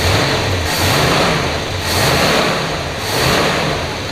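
A 1966 Ford Galaxie 500 convertible engine, still cold with the choke partly closed, running at fast idle with a steady low rumble that swells and eases in slow, regular waves.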